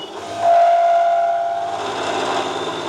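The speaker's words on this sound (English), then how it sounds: "the cutter will give us a 20mm diameter counterbore so that we can get our M8 nuts and socket on" A drill cutter bores a 20mm counterbore into metal on a support-vehicle build, producing a loud, steady motor drone with a sustained high whine near the start.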